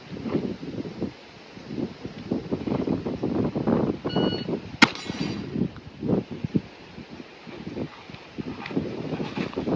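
A single sharp, loud handgun shot cracks during a timed shooting drill, preceded by brief electronic timer beeps over gusty outdoor wind.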